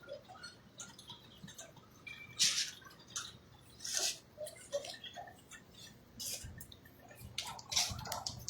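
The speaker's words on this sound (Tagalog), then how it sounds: "pumapatak-patak na rin po yung ulan" Rain beginning to fall during Typhoon Uwan, scattered drops hitting surfaces in irregular taps and splashes, some louder close hits over a quiet background.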